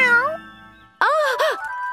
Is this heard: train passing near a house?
no